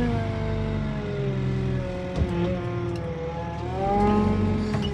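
A 2015 Merlo TF42.7 CS telehandler, a 4.2-tonne, 7-metre telescopic loader, drives along with a steady engine drone and rising, falling revs, close and loud with no talk.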